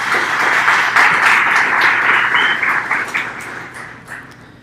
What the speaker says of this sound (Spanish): Adelante, un aplauso.